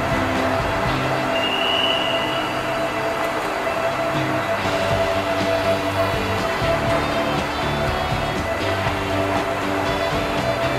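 Thai passenger train 209 running from Bangkok toward Nakhon Sawan, heard from on board: a constant loud rumble of wheels on track with a faint high wheel squeal and occasional rattling jolts, with no talk.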